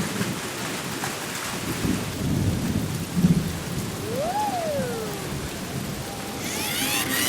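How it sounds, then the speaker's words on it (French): Steady rain falls throughout with low rumbles of thunder building in the middle, plus a brief whooshing gust near the end, in a cartoon. "Il commence à pleuvoir."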